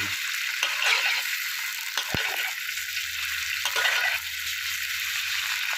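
Shrimp and garlic fry in a hot pan with a steady, loud broadband sizzle that swells and fades slightly, with one sharp utensil tap partway through.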